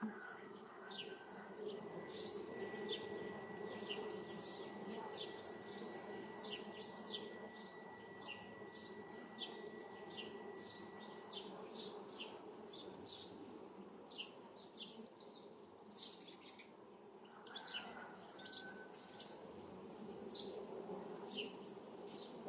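Honeybees hum around a hive colony that is being split. The buzzing is a faint, continuous drone in a quiet outdoor setting, with small bird chirps scattered over it.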